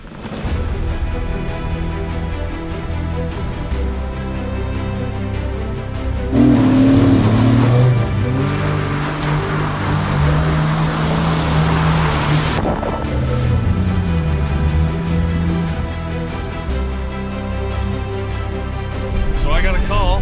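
An off-road recovery vehicle drives out along the Mammoth Trail at AOAA with a constant engine drone and wind rush that briefly swells midway, while people talk over it.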